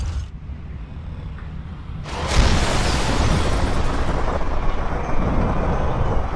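A heavy explosion in Call of Duty: Modern Warfare 3 bursts in after a quiet moment, a loud deep boom that swells into a sustained rumbling roar and lingers to the end.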